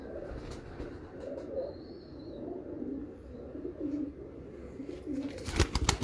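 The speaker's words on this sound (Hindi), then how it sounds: "ये देखें ये सियालकोटी कबूतर है जी।" Sialkoti pigeon cooing close by, a series of soft, low throaty coos repeating in short phrases over quiet background, with a faint whistle and clatter near the end.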